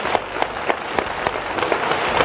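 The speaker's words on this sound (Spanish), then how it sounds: "Un aplauso para Julie." Audience at a copla singing gala applauds with a steady crowd clapping, loud and close, several sharper individual claps standing out rhythmically through the short burst.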